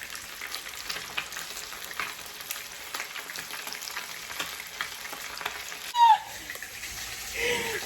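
Fish fries in a pan of oil with a soft, steady sizzle under faint kitchen clatter, and a short chirp near the end.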